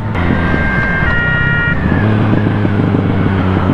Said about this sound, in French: Ah maintenant on peut entendre les sirènes des pompiers.